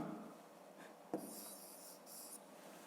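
A pen scratching across paper while a fifth-grade maths exercise is written out by hand, faint and close, in a few short strokes with a soft tap in between.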